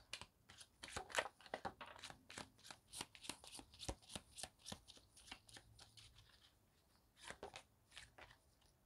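A deck of tarot cards being shuffled close up, with a dense run of quick riffling flicks and slaps that thins out near the end, soft overall and with no talking.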